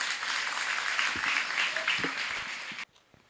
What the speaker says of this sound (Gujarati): ફરી એકવાર જોરદાર તાળીઓથી દાદા છે એમનો આભાર માનીએ